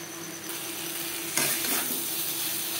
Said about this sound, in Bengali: নারকেল ও মশলার সাথে পটল 2-3 মিনিট নাড়াচাড়া করে দেবো